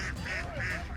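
A large flock of ducks on a duck farm raising 900 birds, with dense overlapping quacks and honking calls filling the air continuously and loudly.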